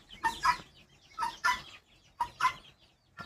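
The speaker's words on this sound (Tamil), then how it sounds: "கின்னி கோழி." A guinea fowl perched nearby gives three quick bursts of harsh, scratchy clucking calls, evenly spaced about a second apart, moderately close, with quiet pauses between and no talk.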